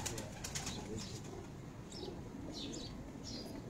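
Pigeons of the Lohia breed at a rooftop loft, soft intermittent coos and a few wing flutters, faint and somewhat distant over low background noise.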